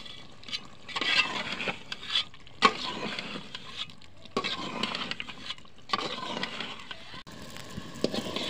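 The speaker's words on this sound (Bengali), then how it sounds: "তো এখন আমি কষাইতেছি।" Buffalo meat with new potatoes and a few garlic cloves being sautéed in a pan, heard as intermittent bursts of scraping and sizzling as it is stirred, fairly close and moderately loud with short pauses between stirs.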